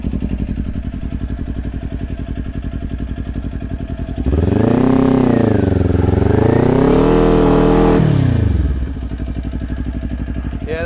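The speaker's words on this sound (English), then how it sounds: "Yeah, that's sort of a burnout." A Kawasaki Ninja 400 motorcycle doing a burnout: a close, loud idle chatter swells into a long revving wail that climbs, dips and rises again, then drops back to a rough idle.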